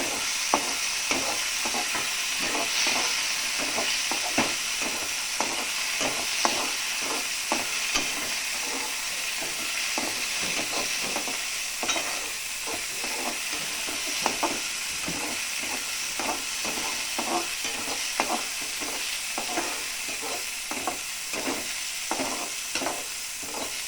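Chopped tomatoes sauté in a pan for pasta, a steady close sizzle broken by frequent scraping and stirring clicks from a spatula, continuous for the whole stretch with no talking.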